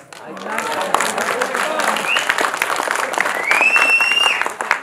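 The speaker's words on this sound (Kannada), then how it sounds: "ಈ ಚಿತ್ರದ ಕ್ಲೈಮ್ಯಾಕ್ಸ್ ಇಷ್ಟ ಆಯಿತು ಅಂತ ಚಪ್ಪಾಳೆ ತಟ್ಟಿದ್ದಾರೆ ಪ್ರೇಕ್ಷಕರೇ" Audience applause in a Kannada film setting, a steady wash of clapping running the full length, with voices talking over it and a brief whistle-like tone near the end.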